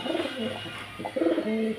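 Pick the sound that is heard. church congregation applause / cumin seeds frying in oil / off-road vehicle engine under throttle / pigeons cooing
pigeons cooing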